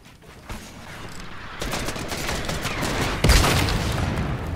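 Video game gunfire with a sharp, heavy shot that hits near the end after a stretch of scattered distant firing and rumble, building in loudness over several seconds.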